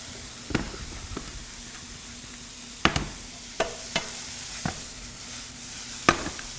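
Onions fry quietly in a pan with a faint steady sizzle, broken by several sharp clacks of a utensil stirring and tapping the pan.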